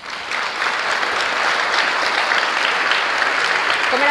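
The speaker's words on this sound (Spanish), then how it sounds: "Fuertes los aplausos." Loud, dense applause from an audience welcoming the president of Paraguay at the opening of an investment event, a sustained roar of clapping that swells early and holds steady to the end.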